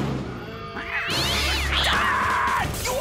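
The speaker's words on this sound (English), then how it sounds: "I believe this is your cat." A cartoon cat lets out a long, drawn-out meow with a rising and falling pitch, loud and close, over a busy background.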